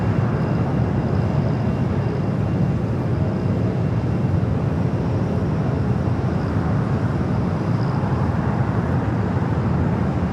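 An airliner takes off from runway 25 right at Los Angeles International Airport, a loud, unbroken broadband roar of engine and rushing air holding steady throughout.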